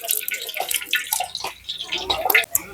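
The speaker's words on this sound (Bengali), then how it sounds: "কড়াই গরম হয়ে গেছে, তেল দিয়ে দিচ্ছি।" Cooking oil poured into a hot kadai before tempering dal makes a short, close, splashy liquid rush that rises and falls in uneven bursts.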